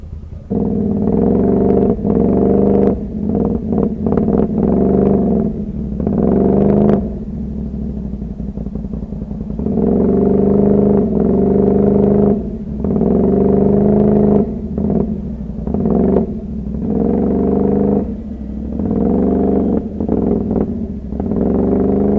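A 2023 Can-Am Renegade ATV stuck in mud has its engine revved hard in repeated surges, loud and close, with a throaty rumble that rises and drops as the throttle is pumped and eased.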